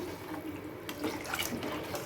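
Water pours and splashes quietly into a mixed-fish gravy, a soft gurgling trickle heard up close without any talking.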